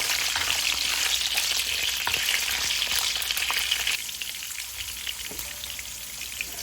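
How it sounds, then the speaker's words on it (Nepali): Paneer with a little salt frying in a pan, a loud steady sizzle with crackling spatter that drops to a quieter sizzle partway through, no voices. "अब यसलाई पनि एकछिन फ्राई गर्नुपर्छ"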